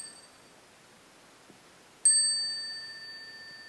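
A single bright bell strike rings out at a family retreat, close and clear with a long fading ring, after a quiet stretch with a faint tap.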